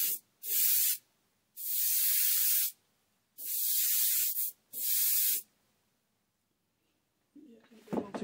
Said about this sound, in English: that's partially because of how much air I'm spraying out of the brush